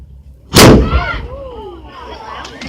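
A cannon fires a single loud, sharp boom that rolls off into a long rumbling echo, with people talking faintly afterward.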